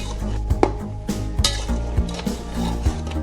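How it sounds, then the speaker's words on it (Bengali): Spoon scraping and knocking against a pot as beef nehari is stirred while the oil rises, a series of close, irregular clanks and scrapes over a low simmering background. "এটা নাড়াচাড়া চলতে থাকবে তেল ওঠা পর্যন্ত"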